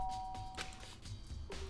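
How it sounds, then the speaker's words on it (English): A doorbell chimes in the video game Danganronpa with a clear, sustained electronic tone under a soft background of game music, close and brief. "I press the doorbell"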